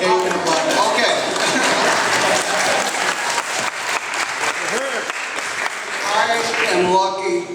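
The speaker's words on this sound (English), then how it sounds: "Okay, you can applaud." Audience applause at a community council candidates meeting, dense steady clapping from a room full of people lasting the whole stretch, loud and close.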